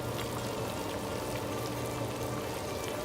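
Lebanese-style stuffed peppers simmer in tomato sauce in a covered pot, a quiet, steady bubbling sizzle with soft popping that continues evenly throughout.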